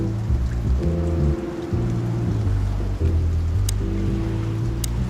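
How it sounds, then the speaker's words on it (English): Steady rain in the game Chicken Police, a constant wash of noise running beneath louder sustained music tones. "Well, it is raining."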